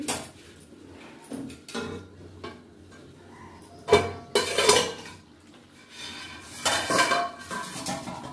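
A lid clatters on a pot of chicken curry cooking with water, with metallic clinks and scraping close by, then a louder burst of rattling and stirring.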